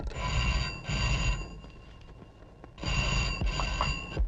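An old telephone rings in two bursts of bright, trilling bells separated by a pause, fairly close and clear, with no voices during the rings.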